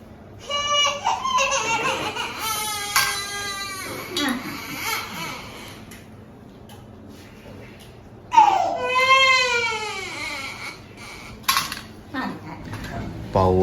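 A six-month-old baby girl cries after her vaccination, loud wailing bursts close by with pauses between, alongside faint clinking of dishes and an adult voice speaking softly.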